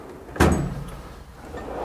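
A heavy drawer of a diesel mechanic's tool chest is pulled open with one hard sliding clunk, near and fairly loud, followed by faint rattling and a low room rumble, no talk.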